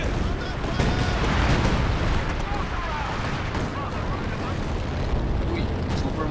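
Mortar fire and explosions in the World War II strategy game Company of Heroes 2 during a skirmish, a dense, continuous roar of loud blasts and rumbling battle noise, with people talking over it.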